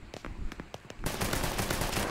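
Several separate gunshots ring out in a Mafia III video game, then a sustained burst of rapid automatic fire follows, loud and close.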